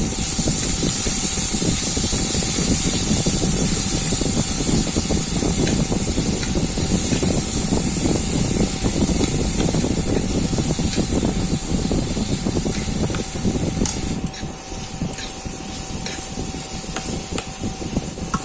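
Onion paste sizzling in hot oil with whole cumin while cooking a Bengali papad and potato curry, a loud steady hiss and crackle that eases slightly toward the end.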